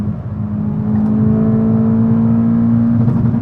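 A car fitted with ECS Tuning 32-way adjustable coilovers pulls hard through a turn, a steady loud engine drone with a strong low hum and a slight rise in pitch near the end, heard from inside.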